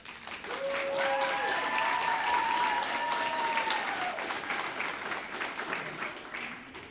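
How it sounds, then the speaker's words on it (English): Sustained audience applause at a reunification ceremony, a dense wash of clapping with a few cheers and whoops rising and fading over about seven seconds. "And of course, Judge Halpert gets the biggest applause for many different reasons."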